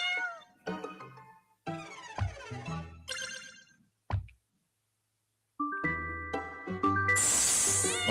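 Cartoonish cats meow in the video game Boop: a run of bright, tonal meows in quick succession, then a pause and more overlapping meows that end in a chiming jingle.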